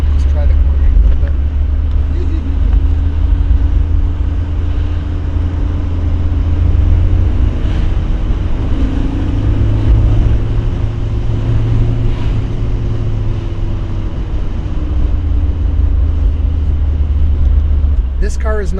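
A vintage Volvo P1800 hums along at speed, its low engine drone and road rumble swelling gently as it accelerates, steady and close from inside the car for nearly twenty seconds.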